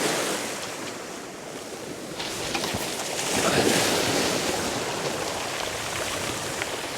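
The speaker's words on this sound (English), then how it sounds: "it's ripping out here. The tide's just ebbing and it's going to pull hard for an hour or so" A strong ebbing tide rushes past the shore of the Bristol Channel, a loud steady wash of water and waves mixed with gusting wind noise, with no speech.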